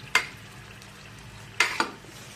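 Fish pieces coated in ginger paste fry in a pan with a low, steady sizzle, broken by three sharp clinks of a utensil turning them, one early and two close together near the end.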